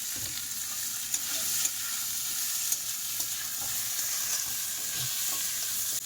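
Boiled elephant foot yam fries with panch phoron, chopped tomato and browned onion, giving a steady, dense hiss and sizzle throughout, broken by a few faint stirring scrapes.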